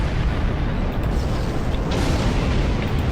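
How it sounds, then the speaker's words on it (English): Loud, dense rumbling explosions in Star Trek Online space combat, with heavy low-end booms rolling continuously, one blast blending into the next. "And those explosions are loud."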